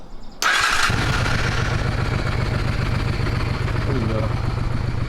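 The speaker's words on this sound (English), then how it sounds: "Engine run." A Honda motorcycle engine cranks and fires up, then settles into a loud, steady idle with a rapid low thumping rhythm close by.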